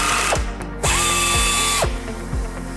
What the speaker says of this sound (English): So if I take it over to a harder material than a regular mild steel, your torque settings are going to clutch out for you.